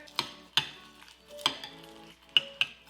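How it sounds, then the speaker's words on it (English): A spoon stirring whole coffee beans into cream in a bowl gives a few sharp clinks and soft scrapes, close and quiet, irregularly spaced over a few seconds. "And you'll just give it a little stir."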